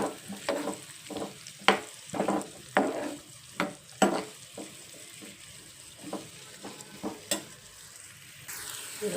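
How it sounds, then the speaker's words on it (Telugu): Onions and green chillies sizzling in a pan for a mushroom curry, a steady frying hiss broken by repeated scraping stirs at an uneven rhythm, close and clear. "ఆ తర్వాత ఉల్లిపాయలు అండ్ పచ్చిమిర్చి వేసుకుందాం. ఇది కొంచెం బ్రౌన్ కలర్లో వచ్చే వరకు వేయించుకోవాలి."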